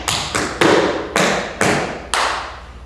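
Six hollow slapping hits on a suitcase, played by hand in an uneven rhythm, each with a short boomy ring, close and fairly loud with no talking.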